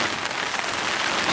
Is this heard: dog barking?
no